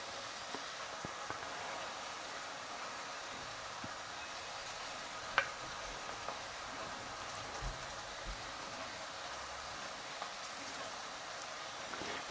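Okra (ladies finger) fries in a pan with a faint, steady sizzle and occasional small pops and crackles.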